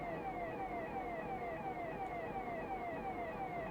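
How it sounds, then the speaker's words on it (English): Warning siren of a DR73 ballast tamper in Train Simulator Classic, a steady repeating falling wail cycling roughly every half second, fairly faint over a low rumbling engine bed with no talking. "So now we have to put the warning siren on."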